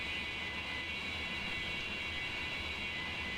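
Airplane in a flight video game coming in to land on a runway, a steady loud engine roar and whine holding evenly throughout without talk.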